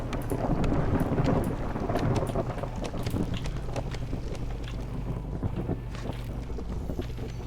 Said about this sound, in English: Here comes our storm.